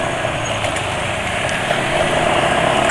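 A motorcycle engine running on Meditran SX Bio oil gives a steady, smooth, even hum, close and loud, with no speech over it.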